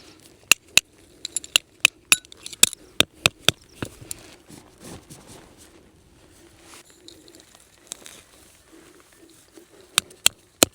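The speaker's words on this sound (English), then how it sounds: "Just in time, we've got a few drops of rain." Raindrops falling on a Vango Classic UL retro tent: sharp, sparse taps landing irregularly on the fabric close by, loud individual pats separated by quiet gaps over a faint low hum.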